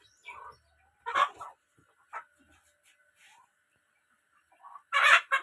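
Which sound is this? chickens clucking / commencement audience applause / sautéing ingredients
chickens clucking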